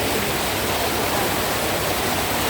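Strong river current rushing over stones, a dense, steady broadband wash of flowing water, close and unbroken, with no voices.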